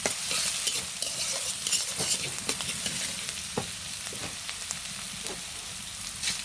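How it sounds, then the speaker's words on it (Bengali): Onions sautéing in a pan as a spoon stirs them, a steady sizzle with scattered scraping strokes, close and moderately loud with no talking. "পেঁয়াজগুলি কষাতে হবে সুন্দর করে"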